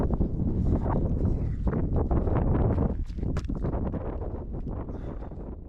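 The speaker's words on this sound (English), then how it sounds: "probably won't be able to hear anything over the wind" Strong wind gusting across an open hiking trail in Colorado's Lost Creek area, loud buffeting rumble against the microphone that eases slightly toward the end, no speech.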